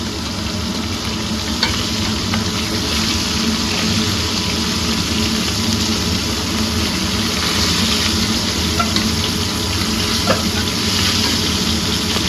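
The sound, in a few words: gram-flour-battered fat fritters frying in oil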